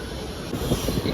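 The Simhadri Express pulls away from Nidadavolu Junction with a continuous loud rumble and rattling wheel noise that grows slightly heavier toward the end.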